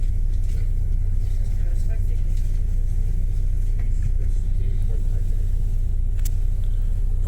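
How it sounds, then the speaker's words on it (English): A Stagecoach bus moves through Glasgow city traffic with a steady, loud low rumble of engines and tyres that fills the whole stretch, nearby and continuous. "Bus is coming up the inside."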